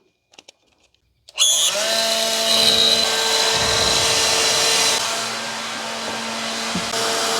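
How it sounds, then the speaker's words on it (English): Several hair dryers switch on at once as a load test on a home solar inverter, producing a loud, steady whirring roar with a few faint clicks just before they start. "let's first test one leg with my hair dryers"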